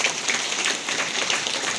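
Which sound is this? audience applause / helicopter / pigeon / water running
audience applause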